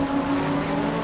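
GT3 race cars at speed in a race at the Thailand Super Series, a brief steady engine roar heard at a distance without a clear pass-by.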